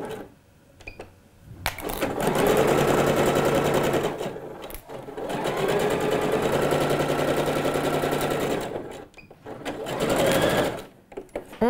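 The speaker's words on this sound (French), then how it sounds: "Je place mes pièces sous la machine et cette fois-ci je pique à 1 cm" A domestic sewing machine stitches pieces of fabric for a kimono blouse 1 cm from the edge, running in three long, steady whirring bursts separated by short pauses, close and loud.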